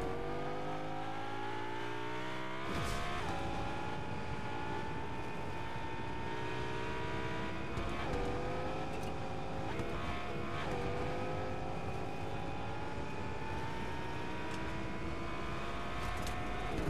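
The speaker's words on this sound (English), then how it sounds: "I'm not against taking a car to see if I can catch up with that train." A car driving in Fortnite, its engine revving and rising steadily in pitch through repeated gear shifts, loud and continuous with no talking.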